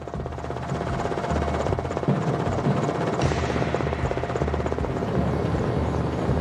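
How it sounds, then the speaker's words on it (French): A Nigerien army helicopter flies steadily overhead above a river, its loud rotor chop and engine whine droning on without pause. "nous embarquons dans un hélicoptère de l'armée nigérienne."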